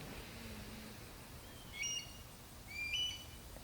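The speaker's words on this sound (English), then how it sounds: "That is a new bird I have not heard before in my backyard." An unfamiliar bird calls twice in a backyard, each short high chirping phrase arriving about a second apart, faint and fairly distant over a soft, steady background hiss with no talking.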